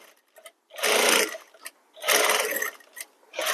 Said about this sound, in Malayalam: അതിന് കിട്ടുന്ന ഫ്ലെക്സിബിൾ എല്ലാം വലിച്ചു പിടിച്ചിട്ട് തയ്ക്കുക.